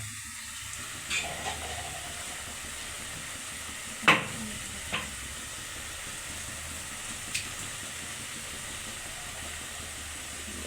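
Meat cooked down with freshly ground spices sizzles quietly in a pot, a soft steady hiss with a few scattered clinks and stirring knocks.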